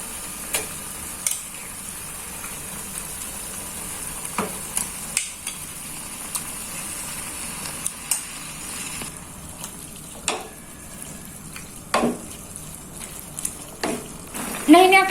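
Meat sizzles steadily in a hot pan while being stirred for a Lebaran dish, with scattered sharp clicks of a utensil against the pan and a louder clatter of stirring near the end.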